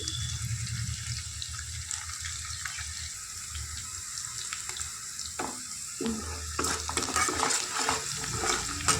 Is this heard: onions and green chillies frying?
yes